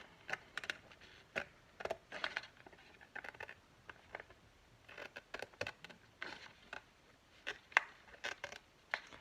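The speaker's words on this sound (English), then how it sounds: "these scissors are horrible too." Scissors snip through paper for a nature-themed journal writing board, a series of quiet, close, irregular cuts in short bursts with small pauses between.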